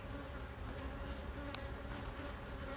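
Honey bees buzzing around a beehive beside a road, a steady faint drone of many insects with occasional single bees passing close by.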